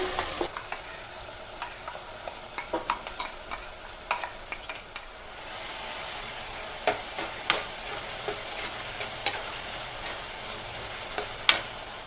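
Ground masala paste stirred into field beans (avarekalu) and rice frying in a pan: a steady close sizzle with scattered spatula scrapes and clicks, and no talking.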